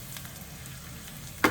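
Crushed garlic frying in oil, a faint steady sizzle with a brief sharp scrape or stir at the end, no talking.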